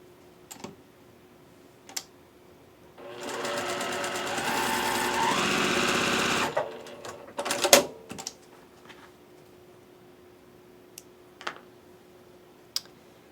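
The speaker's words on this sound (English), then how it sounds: "Your block will come out much more accurately if you sew in this direction." A sewing machine stitching quilt block fabric whirs steadily for about three and a half seconds, followed by a few handling clicks and thumps in an otherwise quiet room.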